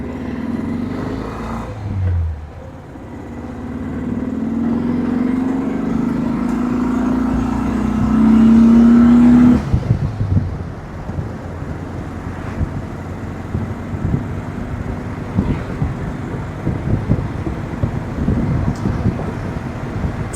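A 1979 VW Super Beetle's engine drones steadily while driving, a loud low hum rising in pitch during the first ten seconds, then settling into a rougher, rumbling cruise with road and wind noise.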